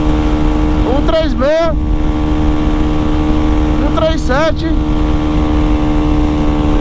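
A Honda Start 190 motorcycle engine holds high revs on a top-speed run, a loud steady drone with wind rush, while a rider talks over it and two brief spoken numbers break through.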